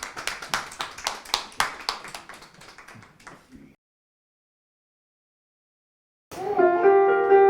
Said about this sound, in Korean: 나오실 때 힘내시라고 한번 크게 박수 이렇게 쳐드리겠습니다